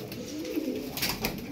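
Pigeons, a mix of mostly female birds and males packed into a box, coo in a low, soft rumbling burble for a brief moment, with faint rustling and no speech.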